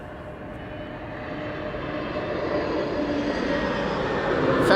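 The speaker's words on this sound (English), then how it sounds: "Right over here we are watching the KLM A321neo" A KLM Airbus A321neo arriving from London Heathrow at Amsterdam Schiphol Airport sends out a steady jet rumble that grows slowly louder from a distance, with a broad airy roar and no voices.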